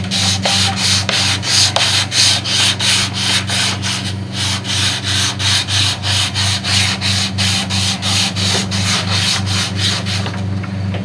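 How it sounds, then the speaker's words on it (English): Sandpaper rubbed rhythmically by hand over a steel axe head being reshaped into a tomahawk, with quick, even back-and-forth scrapes repeating close up and no talking. "This is just sandpaper I got laying around."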